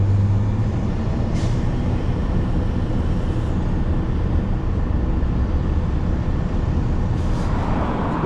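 A subway train in Greece rumbles steadily at speed, a loud continuous roar with a faint whoosh now and then.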